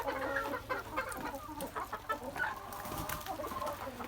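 Hens cluck and murmur continuously at close range, with a few sharper squawks mixed into the steady farmyard chatter.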